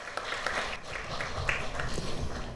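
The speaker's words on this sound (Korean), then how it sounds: "여러분 큰 박수 부탁드립니다." An audience applauds as Seoul Mayor Oh Se-hoon arrives at a city welfare policy event. The clapping is steady and fairly dense, with a faint background voice.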